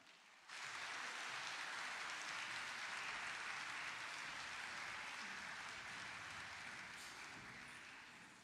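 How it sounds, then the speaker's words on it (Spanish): An audience at a song competition bursts into sustained applause for a composer after her piece. The dense, rain-like clapping starts suddenly, holds steady and loud, then slowly tapers off. "Démosle un fuerte aplauso a la compositora Amanda Mura"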